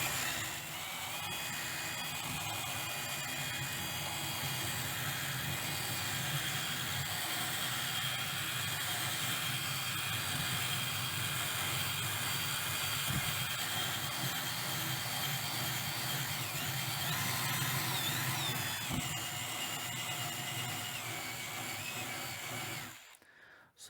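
A spindle sander sands wood with a steady whir and a high, grinding whine, continuous and loud for the whole stretch before cutting off abruptly at the end.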